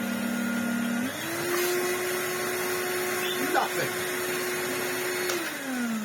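A budget vacuum cleaner runs steadily with a droning motor whine that shifts pitch slightly as it spins up and settles, while a person talks over it.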